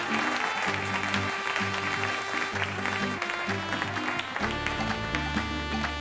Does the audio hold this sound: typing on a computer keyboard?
no